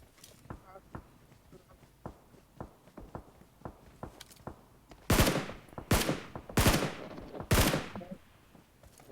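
Long-range gunfire in the PUBG Mobile video game: a string of quieter regular shots, then four loud, sharp cracks spaced about a second apart, with no talking.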